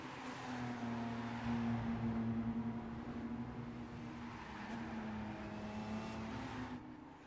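A race car engine drones steadily in the video game Gran Turismo 5, a sustained tonal hum that rises and falls slightly in pitch as the car drives, fairly close and without speech.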